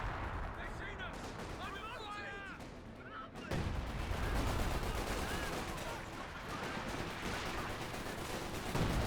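Tank cannon and small-arms fire in the World War II strategy game Company of Heroes 2, including a Panzer IV, with repeated gunshots and heavy booms over battle noise and overlapping speech.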